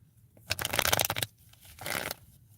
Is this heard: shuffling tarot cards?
yes